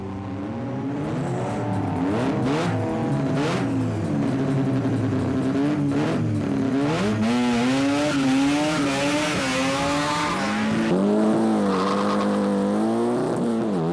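Race cars launch off the start line, a Beetle leading, their engines revving loud and rising in pitch while several cars accelerate together with tire squeal over a continuous roar.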